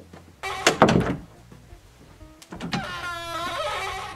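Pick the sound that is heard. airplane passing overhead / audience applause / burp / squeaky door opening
squeaky door opening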